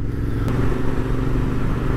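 A Royal Enfield Interceptor 650 motorcycle cruises at around 3,000 rpm, giving a low, steady, even engine thrum with a short sharp click early on and constant road and wind noise underneath.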